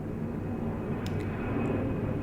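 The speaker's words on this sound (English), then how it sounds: "There's a plane. I don't know if you guys can hear that. It's flying low." Low-flying airplane passing overhead during an indoor recording, a steady low engine rumble filling the background, moderately loud and continuous, with a few faint clicks.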